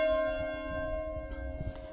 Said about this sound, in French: Ah, les cloches de l'église.